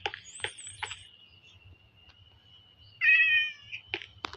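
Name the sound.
cat meowing in Minecraft video game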